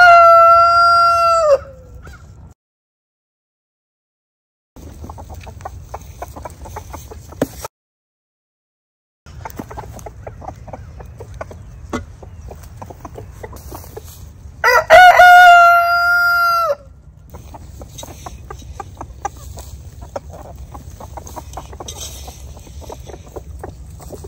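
A rooster crows loudly twice, once at the start and again midway, between quieter stretches of scattered clucks and soft farmyard noise, with brief gaps of silence.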